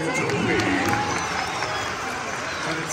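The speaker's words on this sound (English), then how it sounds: "Would you give him a big clap?" Large audience at a concert in the Adelaide Entertainment Centre clapping for Toby, a broad, even roar of applause with some cheering, heard from within the crowd.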